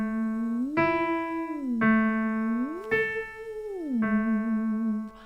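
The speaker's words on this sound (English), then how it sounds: "We're going to slide from the 1st to the 5th, back down to the 1st, then to the octave and back down." A single voice sings a warm-up of smooth glides, sliding up from the root to the fifth and back down, then up to the octave and back down, sustained and steady with no talking.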